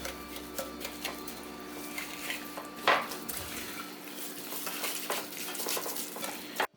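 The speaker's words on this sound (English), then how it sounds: "So whisk it around." Sugar and oil whisked together in a bowl, a steady run of close clinking and scraping against the bowl, with a brief louder clatter partway through and a fairly quiet background.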